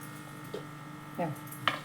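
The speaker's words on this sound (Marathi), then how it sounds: "बारीक करून घेते मिक्सरमध्ये" A kitchen mixer grinder grinds roasted dal for modak with a steady, fairly quiet electric motor whine, broken by a few short clunks.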